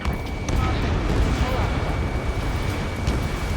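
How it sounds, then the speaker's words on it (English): Gunfire and jet roar from the video game Ace Combat 7 make a continuous heavy rumble with scattered bursts, steady and loud, and a voice may be talking over it. "Gunfire and the roar of jets echoing through the streets."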